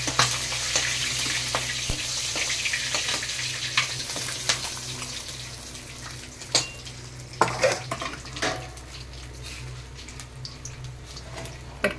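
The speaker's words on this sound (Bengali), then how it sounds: "মাথাটাকে নিতে পাল্টে খুব ভালো করে ভেজে নিচ্ছি।" A katla fish head fries in oil in a pan, a continuous soft sizzle broken by sharp clinks and scrapes of a utensil stirring and turning it, louder bursts clustering toward the middle.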